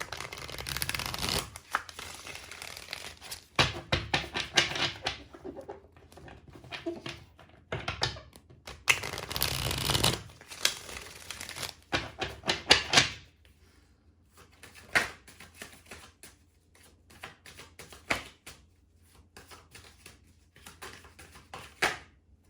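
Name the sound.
shuffling tarot cards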